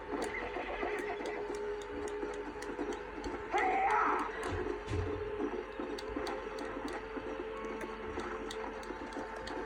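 A horse whinnies once briefly amid steady mechanical game background sounds and faint rhythmic clicking in Red Dead Redemption.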